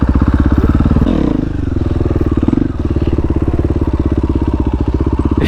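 KTM 500 EXCF dirt bike engine running steadily and loudly up close, a rough pulsing idle that dips and revs briefly before settling back into a constant throaty chug.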